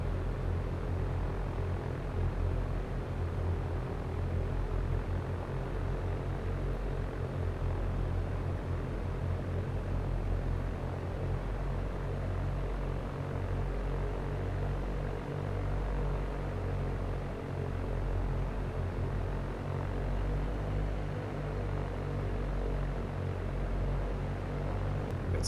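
A Cessna 172 bush plane in the Canadian backcountry, its propeller engine running in a steady, droning rumble with a constant low hum that holds unbroken throughout, no voices.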